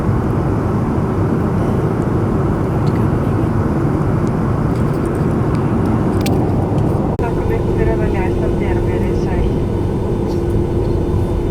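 Loud, continuous roar of a passenger jet cabin during the landing approach into Iceland, broadband engine and airflow rumble throughout with a soft thud midway and no talking.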